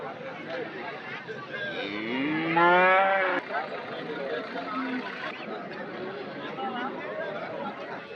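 Cattle at the Anthiyur livestock market in Tamil Nadu give a loud, drawn-out moo, with a second lower call nearby, over steady crowd chatter and market bustle.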